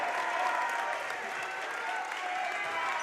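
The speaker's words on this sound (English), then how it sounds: "getting a well-deserved round of applause" A gym crowd at a girls high school basketball championship between Haddon Heights and Sterling applauds steadily, a dense continuous wash of clapping that holds for several seconds, with faint voices under it.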